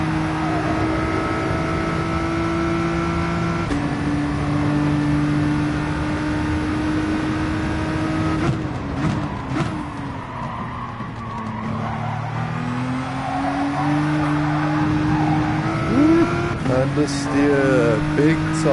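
Nissan GT-R race car in the video game GT Sport on the Dragon Trail circuit, engine droning steadily with gear changes, revving and tire squeal through corners; someone talks over it.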